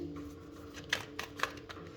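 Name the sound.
shuffling tarot cards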